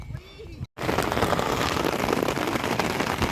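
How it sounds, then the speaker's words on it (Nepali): Heavy monsoon rain suddenly pouring down on a muddy hill road near a trailhead, a dense loud wash of falling water that starts abruptly after a brief quiet moment and continues steadily. "अब चाहिँ धरधरी पानी पर्न थाल्यो गाइज है"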